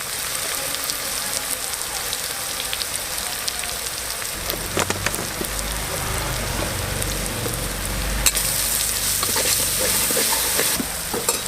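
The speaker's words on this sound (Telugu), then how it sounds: "అల్లం వెల్లుల్లి పేస్ట్ వేసుకోవాలి మంచిగా పచ్చి వాసన పోయేంత వరకు నూనెలో గోలించుకోవాలి" Ginger garlic paste and turmeric frying in hot oil for a village-style spicy mutton curry, a loud continuous sizzle with spatula stirring and scraping that grows denser midway, no talk.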